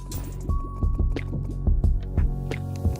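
Water pouring into a huge pool built in Terraria with the Calamity mod, heard as steady game drips and splashy liquid plops landing in a loose repeating rhythm, close and moderately loud with no talk.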